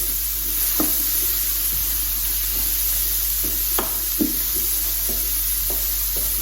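Onions, celery and carrot fry in a pan over medium heat, giving a soft, constant sizzle with occasional spoon-on-pan scrapes and knocks, close and fairly quiet.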